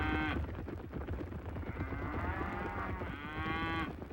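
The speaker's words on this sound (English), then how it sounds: "Cattle are brought in from distant pastures to the aftermath of haylands" Cattle brought in from distant pastures to hayland aftermath and river bottoms low in long, drawn-out moos, one short call followed by a sustained bellow, fairly close and alone.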